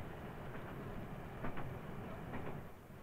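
A 1970s train on the Leeds to Harrogate line moves onto single-line track, its low running rumble steady and quiet, with a few soft rhythmic clicks of wheels over rail joints.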